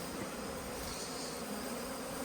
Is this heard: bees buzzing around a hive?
yes